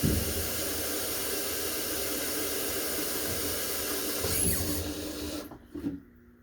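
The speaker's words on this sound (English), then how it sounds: "as I catch the water for the garlic" Tap water runs into a cooking pot being filled for garlic tea, a steady close hiss lasting several seconds before cutting off near the end.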